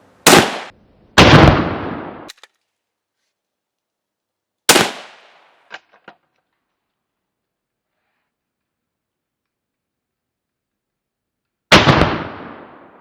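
Loud, sharp rifle shots from a .308 Savage Trophy Hunter XP fired at a canned-tomato target outdoors: two close blasts, a third after a pause, then a fourth near the end, each with a decaying tail and small clicks of handling between.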